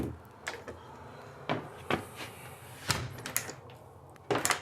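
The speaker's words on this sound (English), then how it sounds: "I'll even close the door to show." A tiny home's door is pushed shut against a tight new seal, giving a few dull thumps and knocks amid soft rustling and handling noise, with no talking.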